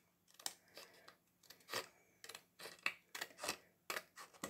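Scissors snip through paper or card while a roof piece is cut for a model greenhouse, a quick series of crisp close cuts and rustles with short pauses between strokes, no voices.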